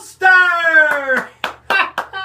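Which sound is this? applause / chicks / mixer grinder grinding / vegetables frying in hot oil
applause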